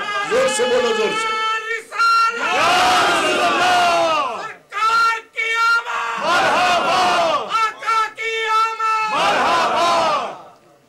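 Large crowd at a religious gathering shouting loudly in unison, several long massed roars broken by short pauses, with a lead voice calling out between them, close and full.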